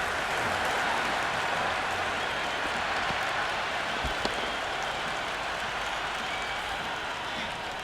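Stadium crowd in the Cricket 26 video game during an India vs Pakistan T20 World Cup match, a dense, steady roar of cheering and applause that fills the whole stretch with no break.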